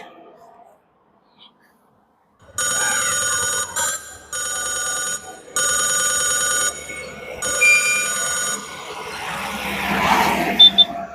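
A telephone rings in a home during a North Karnataka comedy skit. Loud electronic trills come in four bursts with short gaps between them, then give way to noisy background and faint voices.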